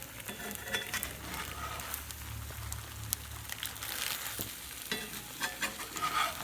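Tortilla chips fry in red sauce for chilaquiles, giving a continuous close sizzle and crackle with occasional stirring scrapes and clicks of a utensil.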